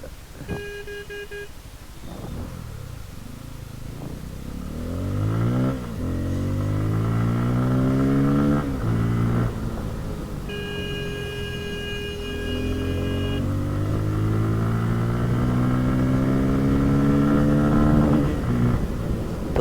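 A Bajaj Pulsar F250 motorcycle engine revs hard repeatedly, climbing in pitch and bouncing off the rev limiter at around 9,000 rpm, loud and close, with a brief electronic beep at the start.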